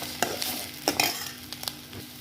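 Raw onions are stirred into frying prawns in a pan, giving a soft steady sizzle broken by a few scraping spatula strokes, with no voices.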